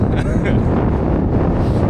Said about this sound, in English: not too windy, although it is a bit windy up here